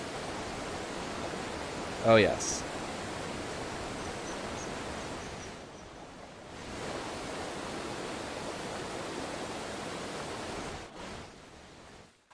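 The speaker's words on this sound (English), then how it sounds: "As the sound starts to roar, guessing there's a waterfall right here." A roaring waterfall in the video game Eastshade gives a steady, broadband wash of rushing water that fills the scene, with a brief voice speaking over it.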